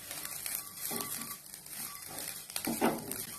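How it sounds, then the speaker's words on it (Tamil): Grated coconut being stirred and dry-roasted in a pan gives soft, irregular scraping and patter of a spoon against the metal, with faint sizzling, close and quiet, no voices. "தேங்காவை நல்லா கைவிடாம ஒரு 5 நிமிஷத்துக்கு கிளறி விட்டுட்டே இருக்கணும்"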